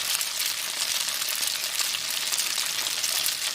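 Pierogi frying in a pan to brown on the bottom, a steady, dense hiss and crackle of hot oil, loud and close throughout.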